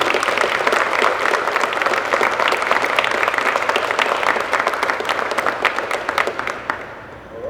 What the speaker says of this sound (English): I want you to give a round of applause to these folks behind me.